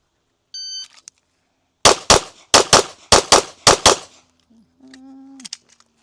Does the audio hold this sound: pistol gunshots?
yes